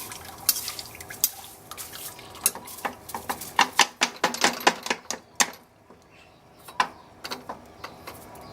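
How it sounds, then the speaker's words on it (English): Dry rice hulls for brewing beer are poured into a vessel, making a run of crisp rustling, pattering taps that grow denser midway, then thin out to a few scattered ticks. "I'm going to put the rice hulls in first."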